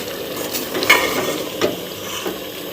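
A chicken shami kabab mixture is mashed and stirred in a pan, with close scraping and squelching strokes and a few sharper knocks over a light sizzle, no talking.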